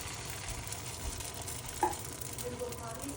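Corn fritter batter of blended corn, flour and eggs frying in a hot pan, a steady crackling sizzle with a soft clink or spoon tap partway through as spoonfuls are added.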